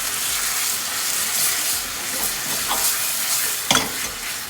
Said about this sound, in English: I'm just going to stir this up